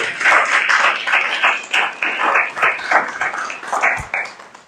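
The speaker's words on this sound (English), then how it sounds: "let's give a round of applause for that." Audience at a church rector's forum on art and humanity gives a round of applause, lively clapping in uneven waves that fades and swells, with a brief low thump near the end.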